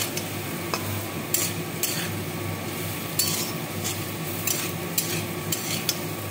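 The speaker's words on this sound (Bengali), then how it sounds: "নারকোলটা এর সঙ্গে আমি ভেজে নেব" Grated coconut frying in a pan for mochar ghonto, with a utensil scraping and clinking against the pan in repeated strokes over a low sizzle, close and fairly loud, with no talking.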